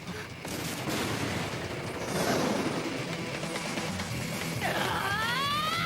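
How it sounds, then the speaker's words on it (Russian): Dense, continuous anime gunfire crackles throughout, a busy rattle of rapid shots with a whistling tone rising near the end. "стрельба перемещается сюда."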